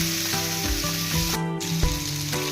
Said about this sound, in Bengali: এবার আমরা লবণ হলুদ মাখানো রুই মাছটা ভেজে নেব।